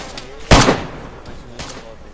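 A single loud gunshot in the survival game DayZ cracks out sharply up close, followed by a fainter second report a moment later, over a low background murmur.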